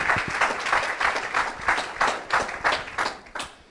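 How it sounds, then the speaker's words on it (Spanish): Church congregation applauding during a service, a moderately loud wash of clapping with rhythmic swells that rise and fall over several seconds. "Give a strong applause to the fuerte"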